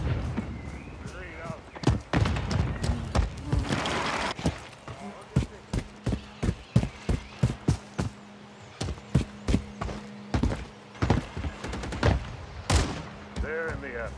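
A frag grenade throw and gunfire sound in Call of Duty MWIII multiplayer, with a burst of explosive noise followed by many sharp, rapid gunshots in irregular bursts alongside a faint steady hum.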